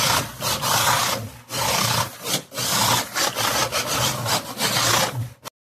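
A small LDRC 1:28 RC drift car with an upgraded 130 motor runs in bursts, its high raspy whine rising and cutting out repeatedly with short pauses between runs, close and fairly loud.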